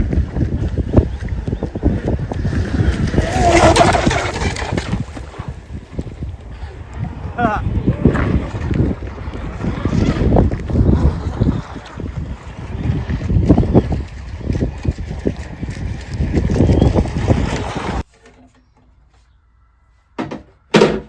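An RC boat runs on water on a gusty, windy day, with broadband wind buffeting the microphone and surging motor and splashing noise, dropping to near silence near the end.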